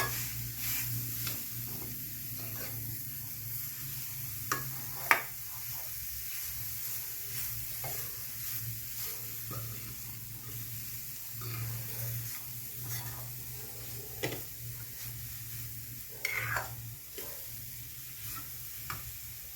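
Garden cress seeds and carrot are stirred and roasted in a pan for jaggery laddus, a soft continuous sizzle broken by repeated scraping strokes of a spoon and occasional sharper taps against the pan.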